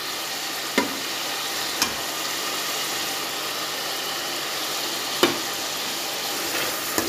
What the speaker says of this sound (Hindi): अब इसमें सारे स्पाइसेस डालूँगी मैं, नमक और ज़ीरा, लाल मिर्च पाउडर, हल्दी पाउडर,